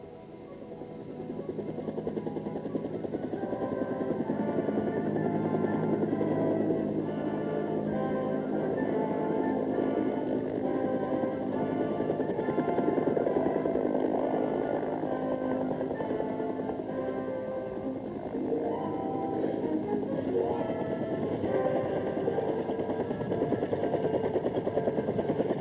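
Helicopter flying close to trees, a loud continuous rotor and engine drone with steady throbbing that holds for the whole stretch, slightly easing and building again toward the end.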